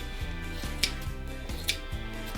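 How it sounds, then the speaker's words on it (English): Scissors snipping quilt batting to round its corners for a no-sew pet bed: two crisp, close cuts about a second apart over steady background music. "I'm going to round the corners just barely so it will fit the bed. Just a little snip here and there."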